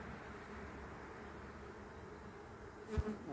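Honey bees buzz at hive frames at the end of the season, a faint, steady drone that holds throughout, with one brief knock near the end.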